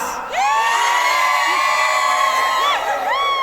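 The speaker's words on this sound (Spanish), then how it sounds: "A ver, gritad como vuestras abuelas." Concert audience at a reggaeton asturiano show shouting and cheering loudly, a sustained wall of whoops and high yells rising after a short pause and carrying on throughout.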